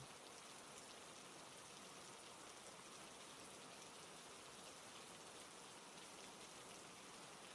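Steady rain pouring down continuously, a dense even hiss of drops on surfaces with no pauses or other sounds.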